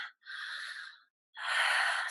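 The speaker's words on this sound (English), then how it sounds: "Breathing it in," Two deep, airy breaths come close to the microphone during a quiet guided meditation, with a short one followed by a pause and a longer, fuller breath.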